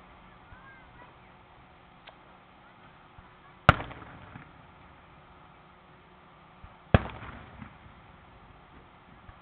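Two sharp, loud fireworks explosions go off several seconds apart at the 2017 Olathe, Kansas fireworks show, each cracking suddenly and trailing off in a rumbling decay over a steady outdoor crowd murmur.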